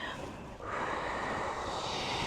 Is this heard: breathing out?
yes